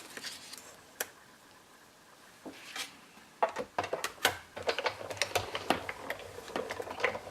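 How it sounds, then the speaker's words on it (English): A Sizzix die-cutting machine pressing a leaf die through different shades of green card: close, dry clicks and taps, sparse at first, then a dense rattling run of sharp ticks, with no voices. "with the die, the leaf die, I'm going to cut my different shades out"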